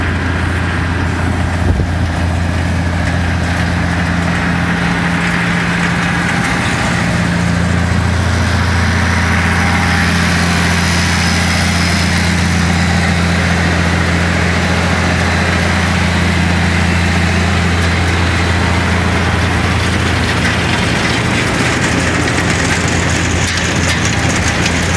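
A farm silage bagging machine fills an ag bag during corn chopping, its engine droning loud and steady at close range for the whole stretch, with no voices over it.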